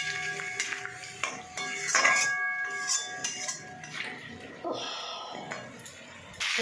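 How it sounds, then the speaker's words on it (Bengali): Potatoes sautéed with tomato in a pan give repeated metallic scrapes and clinks of stirring, close and uneven, with some talk in the background. "এবার ভালো করে আমি কষিয়ে নেব।"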